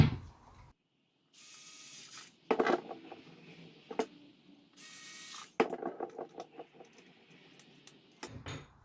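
Small screws are driven in by hand to secure the glass lens of a Wall-E robot eye build, giving quiet intermittent ratcheting clicks and brief scraping bursts between pauses.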